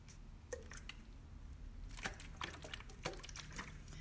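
Water gently sprinkled a little at a time onto potting soil for planting, giving quiet, intermittent squishy drips and small splashes in irregular bursts, faint and close, with no talking.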